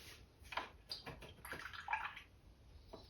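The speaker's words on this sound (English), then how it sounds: "I'm going to clean my brush off" Paintbrush swished and rinsed in a water cup during acrylic painting, a few short splashy swirls and drips close by, quiet and without talk.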